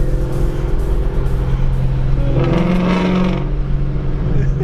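A slightly modified Ford Mustang GT with a 5.0 engine rumbles steadily up close, its low exhaust drone swelling briefly midway as it is driven along.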